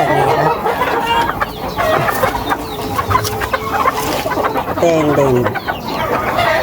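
Pet chickens clucking steadily after being fed and given vitamins, several birds close by with repeated short clucks and a few rising calls, and a person speaks briefly over them.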